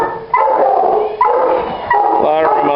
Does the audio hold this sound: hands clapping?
no